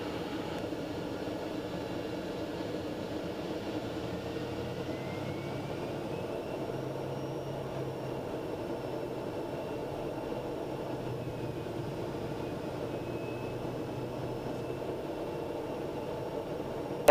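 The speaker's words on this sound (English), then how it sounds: "And the overspeed governor check tests perfectly this time" A light airplane engine runs during an overspeed governor check, a steady low droning hum that holds throughout at moderate, distant level, with faint tonal whines drifting above it.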